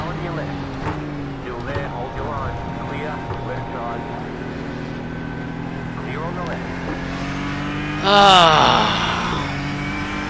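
A race car engine at Watkins Glen in iRacing holds steady tonal whines that rise and fall with gear changes, while voices talk over it and a brief louder burst of revving arrives near the end.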